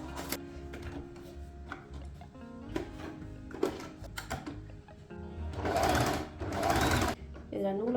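A newly unboxed electric sewing machine runs in short bursts of mechanical clatter and whirring, with a couple of longer, louder runs toward the end, and a voice speaks between them.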